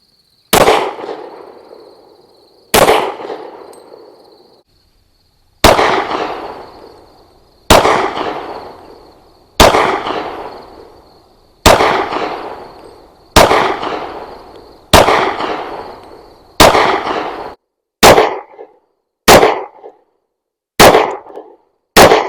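A Smith & Wesson M&P 1.0 pistol in .40 fires twelve loud, sharp shots at close range. The first shots are spaced a couple of seconds apart, and the final ones come quicker, each followed by a short echoing decay.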